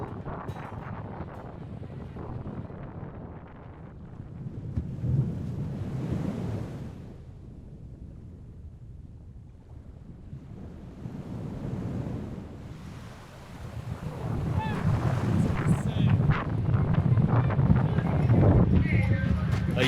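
Pacific Ocean surf on the shore at Concón, Chile, heard as rolling waves that build and recede in slow surges, mixed with buffeting wind noise on the microphone, steady and fairly loud throughout.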